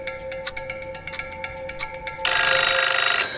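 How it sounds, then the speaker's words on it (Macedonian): A telephone rings several times in a steady repeating pattern with no talk, then ends in a louder, brighter ringing burst. "Задзвони телефонот"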